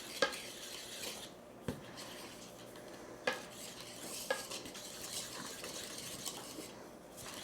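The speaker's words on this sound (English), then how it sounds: "I'm switching to a Danish whisk, incorporating this flour into the wet ingredients" A Danish whisk stirs flour into wet ingredients for a cinnamon honey cake batter in a bowl with soft continuous scraping, punctuated by a few sharp taps against the side.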